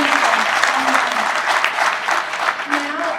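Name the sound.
audience applause at awards reception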